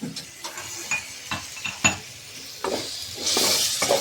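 Ginger-washing water splashes into spices frying for an egg tarka, followed by a steady hiss of sizzling and scraping, clinking spatula strokes against the pan, with the sizzle swelling loudly near the end.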